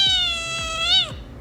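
A cat gives a single clear, close meow that rises slightly and then drops off sharply, alone with no talk.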